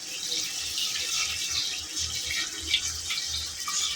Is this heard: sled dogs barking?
no